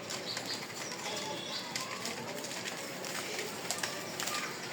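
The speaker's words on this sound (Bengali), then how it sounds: "কবুতরগুলো আগে খেয়ে নিক।" Pigeons being fed by their keeper flap their wings and coo nearby. Soft, fluttering wingbeats and low coos mix with faint outdoor background noise at a modest level.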